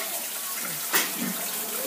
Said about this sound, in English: just going to run them under some warm water, and that's going to help to thaw them out some